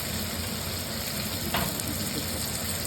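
Onions and cumin seeds fry in oil in a pan, a dense close sizzle holding steady throughout with a faint stirring scrape midway, no voices.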